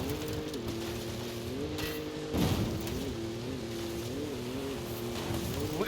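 Engine of a fast car driven in the racing video game Forza Horizon 5, a steady droning hum with shifting pitch as it revs and changes gear, fairly close and with no talk over it.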